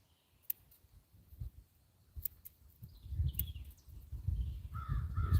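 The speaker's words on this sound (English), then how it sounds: "Sometimes you hear crows." Crows caw outdoors on rural land where wild roses are planted. A few sharp calls rise over quiet surroundings, with low rustling and handling noise growing louder underneath.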